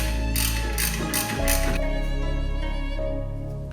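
Rear brake caliper bolts, 14mm, are ratcheted loose on the rear knuckle of a Mitsubishi Eclipse during restoration, giving a close, steady run of mechanical clicking with a few metallic clinks.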